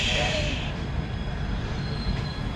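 A Howrah–Yog Nagari Rishikesh Doon Express train pulls into Rishikesh station with a loud, steady rumble of rolling wagons and a thin wheel squeal running throughout.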